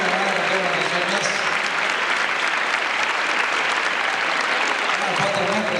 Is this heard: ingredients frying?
no